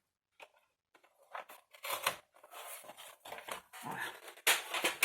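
Scissors snip and slide through paper while an Advent calendar craft is made, with a few faint early snips and then louder, closer bursts of cutting that come one after another.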